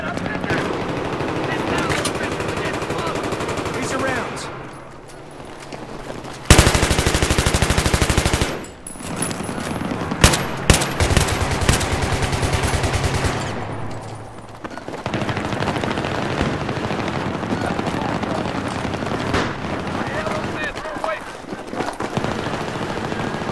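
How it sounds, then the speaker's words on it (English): Heavy automatic gunfire and explosions from Battlefield 3 multiplayer combat, with loud sustained bursts of machine-gun fire and booms layered under excited talk throughout. "Who's shooting at me?"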